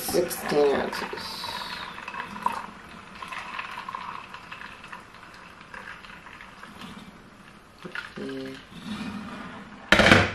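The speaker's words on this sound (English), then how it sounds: "And the water is almost boiled." Water boils for coffee in a home kitchen, a bubbling, rumbling simmer that rises and falls across the stretch while people talk over it, with a few clinks near the end.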